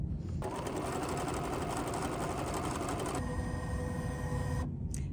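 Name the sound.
embroidery machine sewing a tack-down stitch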